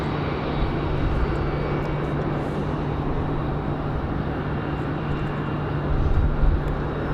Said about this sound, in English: Delta 1275, clear for takeoff